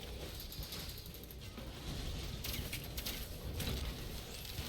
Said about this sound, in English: Oh hey, it's a printer for cool sunglasses.